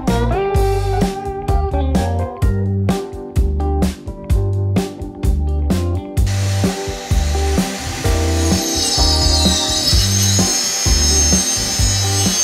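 A power tool cuts wood in rapid repeated bursts with brief pauses, loud and close, during backyard natural pool construction; later in the clip the cutting continues under a higher whine.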